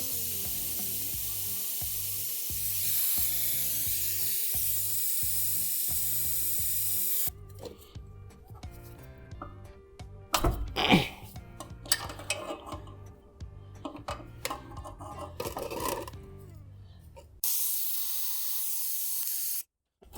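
A vacuum brake bleeder hisses steadily while the brakes are bled on a Toyota Tundra fitted with Lexus GX460 brake parts. The hiss cuts out midway for clattering tool knocks and rattles, then the hiss returns near the end.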